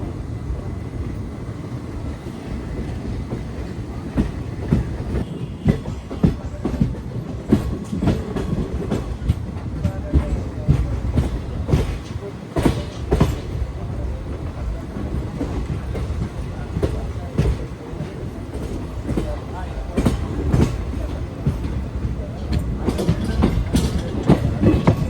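Circar Express passenger train rolling near Chennai port and docks, a steady loud rumble of wheels and carriages with rhythmic clickety-clack over the rails throughout.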